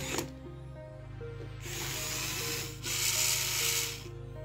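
A battery-powered, remote-controlled Jiabaile toy dinosaur rolls along on the wheels in its legs, making a close, steady whirring rub with a constant motor hum beneath and louder bursts as it moves.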